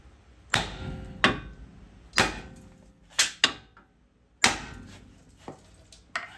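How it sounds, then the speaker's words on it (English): A series of sharp metallic hammer strikes during a 2014 Jeep Wrangler JK ball joint replacement, about seven blows landing at irregular intervals, each ringing briefly before fading, with quiet gaps between. "we're going to hit it with the hammer"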